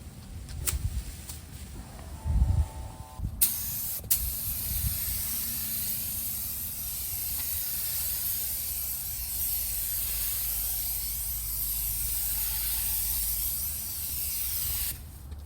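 Aerosol spray can laying a light dusting coat of Rustoleum paint on a Fiat 500, a few clicks and short bursts at first, then a long steady hiss of spraying that runs for about eleven seconds before cutting off.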